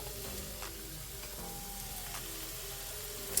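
Frozen pimento peppers dropped into a hot pot give an even, close sizzle that holds steady throughout, with faint bubbling and no voices.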